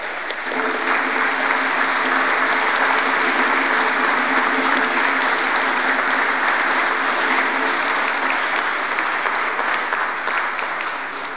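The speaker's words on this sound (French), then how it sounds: "on les applaudit quand même" A congregation applauding during a chrism mass in church, loud sustained clapping from many hands that fills the space evenly and holds steady before easing slightly at the end.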